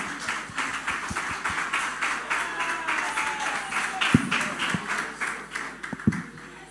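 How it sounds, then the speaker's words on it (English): Children at a Children's Day church service are clapped for by the congregation, a steady patter of scattered hand claps spread across the room with a few sharper close claps standing out. "But please clap for them."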